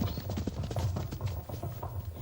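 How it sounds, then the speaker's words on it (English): A horse gallops in rhythmic, fairly close clip-clop hoofbeats with a steady pace throughout, no talk over it. "We can hear a horse behind you, galloping"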